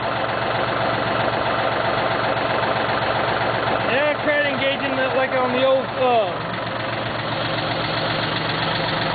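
Cub Cadet tractor engine idling with a steady low rumble that fails to pick up speed, someone talking over it.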